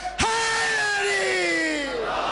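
A large crowd roars out a chanted slogan at a religious gathering, one loud sustained shout of many voices swelling together and fading after about two seconds.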